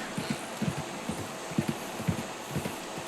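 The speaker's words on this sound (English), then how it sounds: "Let's see what this horse can do." Horse hooves trot in a steady clip-clop rhythm in Red Dead Redemption 2, with even, moderately loud paired beats repeating throughout and no talk over them.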